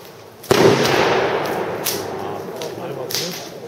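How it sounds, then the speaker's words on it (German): A firework bomb tube fires with a sharp, dull launch bang, followed by a spreading crackle and a few fainter bursts and pops over the next seconds, heard outdoors at moderate distance. "Knall, Abschussknall, sehr dumpf, sehr schön, Zerlegerknall sehr schön"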